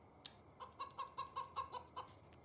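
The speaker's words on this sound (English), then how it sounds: "Hello, chickens!" Chickens cluck in Farming Simulator 19, a quick series of about eight short, evenly spaced clucks, fairly close and clear over a quiet background.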